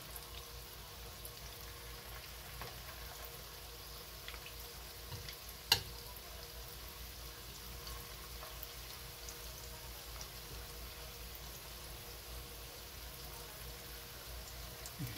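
Banana blossom balls frying in a pan of oil give a soft, steady, faint sizzle and crackle throughout, with one sharper pop partway through.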